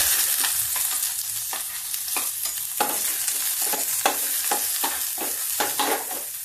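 Garlic and onion fry in hot oil in a pan on low heat, giving a steady loud sizzle broken by repeated scraping stirs at a roughly regular pace, with no talking.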